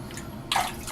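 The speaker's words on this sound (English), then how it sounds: "I'm going to wet my face real quick." Water splashed onto a face at a bathroom sink before a shave, a soft trickle followed by a brief, louder splash midway through, close and alone with no talk.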